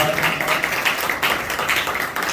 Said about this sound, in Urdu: آئے زوردار تالیاں خدا کے کلام کے لیے بجا دیں